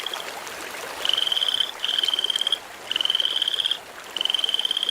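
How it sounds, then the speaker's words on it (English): A frog calls outdoors in repeated bursts of rapid, rattling croaks, four trains in quick succession, fairly close and clear against a soft background hiss. "Here it is, a frog."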